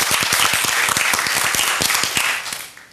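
An audience at an opening ceremony claps for sponsors in a close, dense burst of applause with distinct individual claps. It fades out toward the end.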